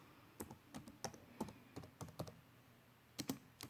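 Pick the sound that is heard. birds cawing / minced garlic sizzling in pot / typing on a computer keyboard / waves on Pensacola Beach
typing on a computer keyboard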